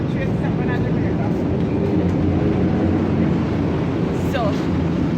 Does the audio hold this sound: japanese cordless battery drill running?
no